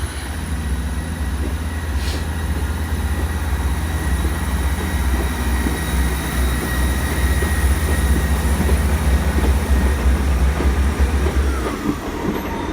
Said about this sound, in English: So we got this South Western Railway service now going out.